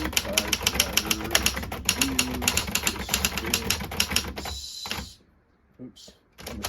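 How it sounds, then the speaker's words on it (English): A Remington Travel-Riter (Torpedo 20) portable typewriter, typing fast with dense mechanical key clacks close up, then a bright bell ding and a carriage shift before a pause. "It dings, it types, and we are ready."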